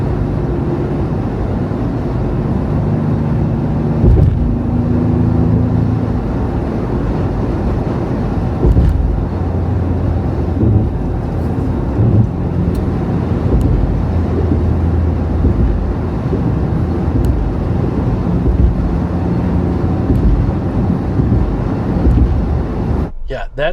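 Steady road and tire hum from Kumho Road Venture RT all-terrain tires heard inside a poorly sound-deadened Ford Bronco while driving, a constant low drone with wind rush, loud and continuous, with someone talking over it.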